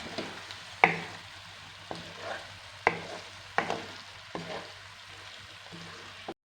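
Okra frying in a gram flour masala in a pan, with steady sizzling and several sharp stirring scrapes spaced through the clip, close up and alone.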